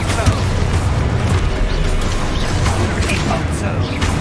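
A blast from an Expulso spell in the Hogwarts Legacy video game, heard as dense continuous game combat rumble with booming low-end impacts and clattering mechanical effects throughout, loud and steady.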